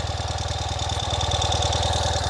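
A 2021 Ural Gear Up motorcycle engine idles close by with a steady, even low thump and no change in revs.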